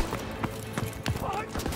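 Machine gun fire in the WWII shooter Call of Duty WW2 during a beach assault, a short burst of rapid repeated shots under a player's voice.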